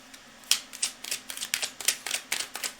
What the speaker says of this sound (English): I need to shuffle it all up.